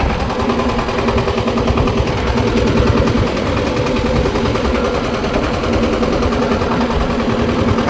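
A small tractor engine runs steadily and loudly throughout, a constant low rumbling drone with no pauses or changes in pace.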